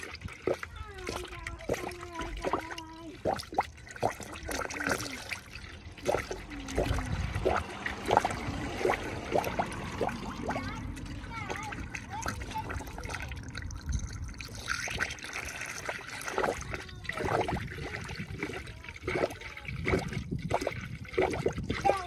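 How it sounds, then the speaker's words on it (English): Coolant pours steadily into an orange funnel on a 2006-2012 R51 Nissan Pathfinder with the 4.0-liter engine, a continuous splashing trickle that runs throughout, with a voice audible in the background. "we're gonna fill this this orange funnel to about a third full"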